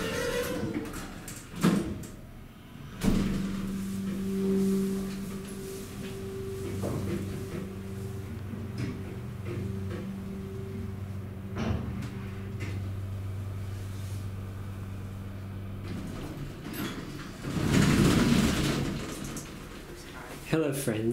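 A Westinghouse elevator door at the New London CT public library slides and rumbles, with sharp bumps at the start and end, a steady motor hum throughout and a louder burst near the end. Voices can be heard nearby.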